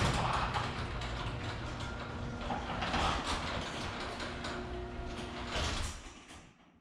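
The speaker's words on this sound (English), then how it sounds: "we're gonna go ahead and drop this garage door down" Garage door being lowered in a home garage, a steady mechanical rumble with grinding gear and chain whir, fairly close, fading out as the door comes to a stop.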